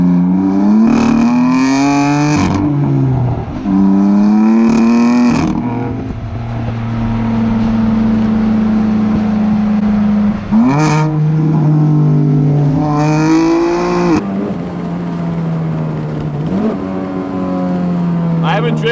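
A 2004 Honda S2000 manual sports car pulls hard through the gears. Each rising engine note climbs to a peak and drops at a shift, several times over, loud and close from inside the cabin, with brief speech over it.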